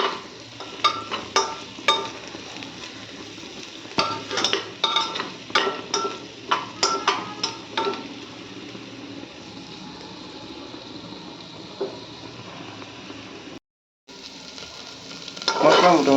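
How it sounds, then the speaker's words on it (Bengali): Spices and vegetables fry in a pan for Bengali-style dalia, giving a continuous sizzle broken by sharp clinks and scrapes of stirring, then a quieter stretch of hiss and a brief gap near the end. "মশলা মোটামুটি ফ্রাই হয়ে গেছে,"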